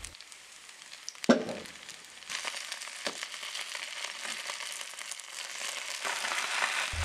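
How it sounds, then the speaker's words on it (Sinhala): Grated potatoes fry in a pan for a Spanish omelette, starting with a quiet hiss, then a sharp clatter as they go in, followed by a steady, moderately loud sizzle and crackle that builds slightly toward the end. "අල ටිකත් මම විනාඩි 5ක් 6ක් විතර pan එකේ තියාගෙන හොඳට බැද ගන්නවා."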